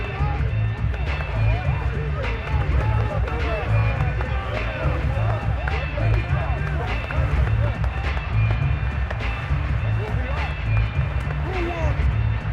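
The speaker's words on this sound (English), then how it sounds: "Crowd getting in it a bit already." Stadium crowd noise from a simulated Tennessee Titans versus Seattle Seahawks game in Madden 22 on PS5 forms a steady, dense roar throughout, with play-by-play commentary talking over it.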